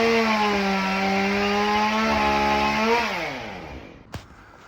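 Pole saw cutting a branch on a wide-spreading valley oak: a loud, steady buzzing engine drone that drops in pitch as it winds down, followed by a single faint knock near the end.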